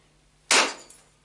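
A single sharp strike rings out as a deer antler soft hammer knaps stone to detach a thin flake, a crisp close impact with a brief decaying ring and a faint second tick after.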